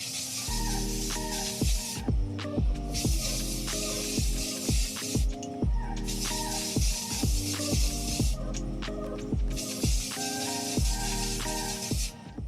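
A can of spray paint hisses onto a tumbler in four bursts of about two seconds each, separated by short pauses, over a background of steady musical tones.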